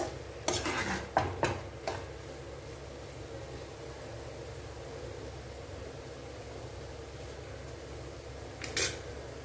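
A utensil stirs mushroom pickle in oil in a pan, giving a few brief scraping clinks near the start and one more near the end, over a faint steady hiss with no speech.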